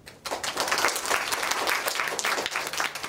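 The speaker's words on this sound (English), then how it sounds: "let us give her a big round of applause" Audience applause at a conference talk, a full room clapping steadily and loudly for about three seconds with no voices over it.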